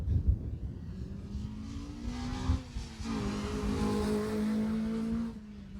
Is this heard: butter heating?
no